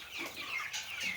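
Meat chickens cluck and squawk in their pen after their water was taken away, a few sharp, fairly close calls repeating irregularly with no talk.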